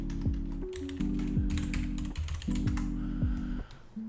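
Keys clatter on a very old computer keyboard in quick irregular bursts of crisp taps, close and clear, with a steady low electrical hum and background tones running underneath.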